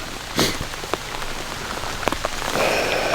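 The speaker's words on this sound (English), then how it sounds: "it's rained this whole time" Steady rain falls outdoors during a bear hunt, a dense continuous patter with a few sharper drops landing nearby, constant and fairly loud with no voices.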